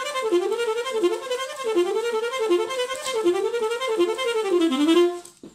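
Solo saxophone plays a staccato tongue-and-finger exercise melody: a quick run of short, separately tongued notes in a wavering up-and-down line, close and steady for about five seconds, then stopping abruptly.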